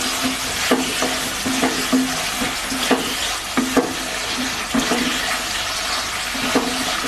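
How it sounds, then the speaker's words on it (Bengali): Chopped tomato goes into a pan of frying vegetables, yard-long beans and potato, giving a steady sizzle broken by repeated scraping stirs and soft clacks at close range, with no talk. "আমি টমেটোটা দিচ্ছি। এখানে একটা টমেটো ছোট ছোট করে কেটে নিয়েছি।"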